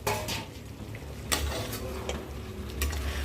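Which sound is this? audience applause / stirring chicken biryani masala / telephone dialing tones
stirring chicken biryani masala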